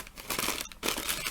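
A paper Christmas card being folded gives close, crisp crinkling and rustling in two short bursts with a brief pause between.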